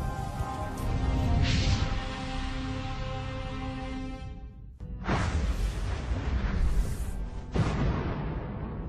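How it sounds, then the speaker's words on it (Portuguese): Explosion sound effect meant as a supernova: a deep rumbling boom swells and fades, then after a brief dropout a second harsh crashing blast with hissing bursts rolls on, loud and alone without speech. "As explosões mortíferas das supernovas são fascinantes."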